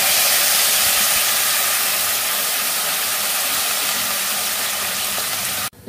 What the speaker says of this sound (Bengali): এবার এই অবস্থায় জল ঢেলে দেবো।